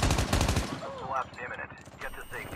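A burst of rapid video game gunfire rattles loud and close at the start, then lighter scattered shots, whooshes and game effects follow. Nobody speaks.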